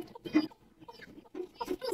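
Newly hatched black chicks chirp close up in two short bursts of thin calls, separated by a brief quiet gap.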